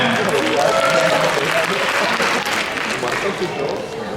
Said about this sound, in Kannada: ಜೋರ ಚಪ್ಪಾಳೆ ಬರಲಿ ಮತ್ತೆ